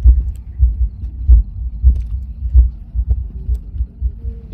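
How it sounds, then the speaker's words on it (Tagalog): A heartbeat from a participant's PPG pulse sensor thumps loud and close in a steady, repeating low-pitched rhythm of roughly one beat per second, with a faint hum underneath and no talk. "This one, guys, the heartbeat."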